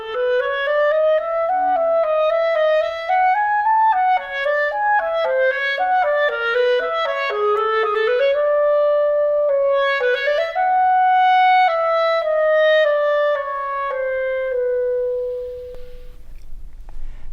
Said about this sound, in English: this is the clarinet